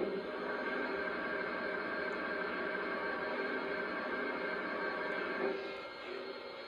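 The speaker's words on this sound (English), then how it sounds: "Here's the sound of water being added to the tender." A Lionel Legacy Union Pacific FEF-3 Northern #844 model steam locomotive plays its tender-filling sound effect: a steady, loud rush of water-like hiss that runs continuously and eases slightly near the end.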